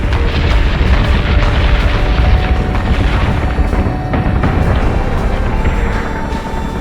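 Warship cannons firing in the space combat game Battlestar Galactica Deadlock, a loud, dense, continuous roll of booming blasts with no voices.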